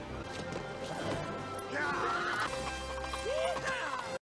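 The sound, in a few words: horses in a movie scene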